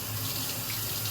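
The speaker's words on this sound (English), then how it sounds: "We have this communal sink, that works perfect for washing paintbrushes." Tap water runs steadily into a communal sink while gesso is rinsed out of paintbrushes, a close, even hiss with no talking.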